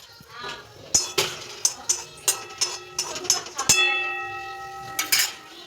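A metal spoon stirs butter and chopped onion in a pan for Maggi noodles, making a rhythmic run of sharp, close clinks and scrapes against the cookware.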